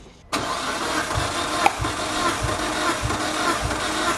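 Mitsubishi Evo 8 engine with 109,000 miles cranking on the starter during a compression test: a sudden start, then an even, rhythmic chugging of compression pulses, loud and close, with no voices.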